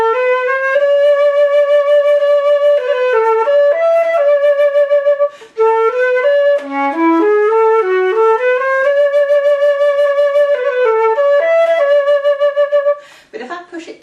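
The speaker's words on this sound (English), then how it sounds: "So this is normally, the flute can sound like this." A flute plays with its normal tone, a clear, loud, close melody of sustained and moving notes with a brief breath break partway through.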